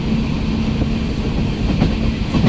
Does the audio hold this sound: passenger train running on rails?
yes